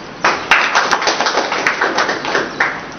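An audience at a business seminar claps in a dense, rhythmic burst of many hands, close and lively, the applause pulsing steadily for a few seconds without speech.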